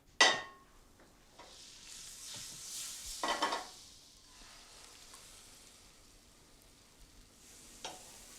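Smoked salmon frittata egg mixture being partially scrambled in a pan, heard as soft stirring and scraping strokes with a faint sizzle, plus a few louder utensil knocks against the pan.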